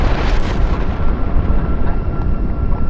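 A nuclear explosion sound effect: a loud, deep, rumbling blast that rolls on without a break, heavy in the low end and fading slightly toward the end.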